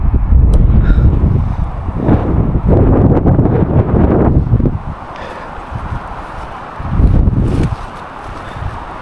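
Strong gusts of wind batter the microphone on a rocky mountain trail in a storm, rising and falling in heavy roaring surges that ease briefly before another loud blast returns.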